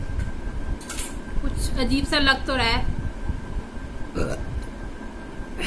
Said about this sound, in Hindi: हिचकी तो आई नहीं, वो जो डकार सी होती है ना वो जरूर आ गई।